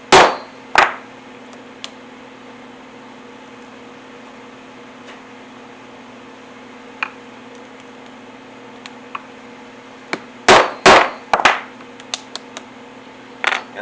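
A leather punch is hammered through two stacked leather pieces for a cartridge carrier, giving sharp, loud strikes at the start and a quick cluster of blows later, with scattered small taps between.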